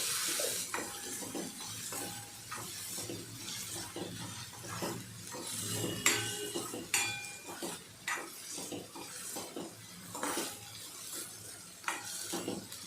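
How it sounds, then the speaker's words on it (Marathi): Onions sauté in a pan over medium heat with asafoetida for a monsoon wild-greens recipe, giving a steady close sizzle broken by repeated spoon scrapes and clinks against the pan. "कांदा आपला चांगला परतवून झालेला आहे"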